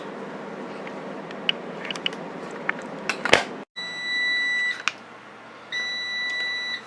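Power Air Fryer Oven timer beeping as cooking of ground turkey finishes: a steady electronic tone sounds twice in long sustained beeps, close and clear, after a stretch of room noise and a sharp clatter.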